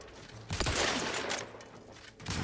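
Gunfire in The Outer Worlds 2 with an enemy shooting at the player: a dense burst of shots that swells and holds, then eases and returns near the end, with no talk over it.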